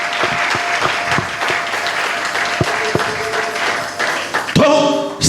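A church congregation at a Sunday service claps loudly and continuously in a rhythmic burst, with scattered voices in the hall and a sharper swell of clapping near the end.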